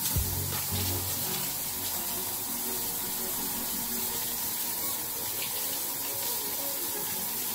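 Tap water pours steadily over Irish moss being rinsed in a sink, a continuous close splashing rush throughout with no talking.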